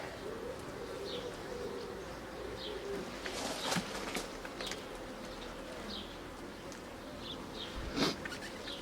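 Bees buzz around an open hive during a beekeeping inspection, a dense steady drone with individual insects zipping past close by, plus a couple of louder knocks and clatters.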